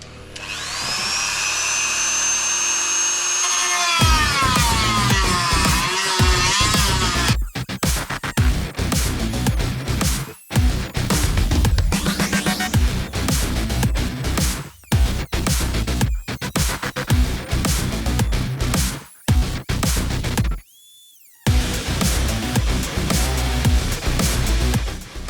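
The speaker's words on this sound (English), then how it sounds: "and do some Dremeling." A Dremel rotary tool cuts through a plastic gauge pod cover: a high spinning whine at first, then loud, gritty grinding bursts with brief pauses, running close and steady with no talk.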